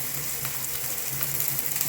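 Pork fat crackles and sizzles in a frying pan, a dense, steady hiss with fine popping spatters and a faint low hum beneath, continuous and close with no voices.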